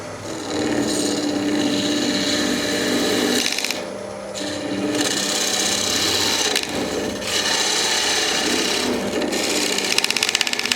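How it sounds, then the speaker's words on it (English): A diamond tool parts glue off a wooden bowl turning on a woodturning lathe, giving a continuous close rasping scrape with a few brief pauses. "we're gonna part this glue off with a diamond tool, take the glue only."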